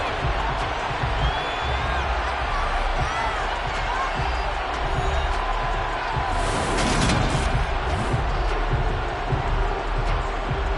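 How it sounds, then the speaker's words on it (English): A large stadium crowd in an American football video game keeps up a steady roar and shouting that swells briefly midway, loud and continuous throughout. "Plenty of shouts from this crowd as they watch the replay."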